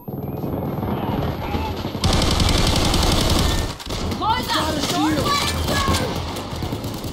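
Saiga shotgun firing in a heist shooter game, heavy repeated blasts mixed with other gunfire and chaotic action noise, with voices talking throughout.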